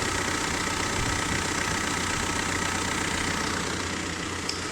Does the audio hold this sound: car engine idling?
yes